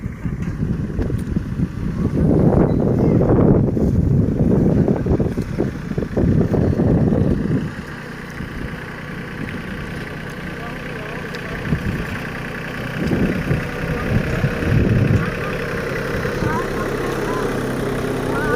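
A mini tractor weeding a millet field chugs steadily nearby, loud at first then quieter, with wind buffeting the microphone and a brief louder stretch near the end.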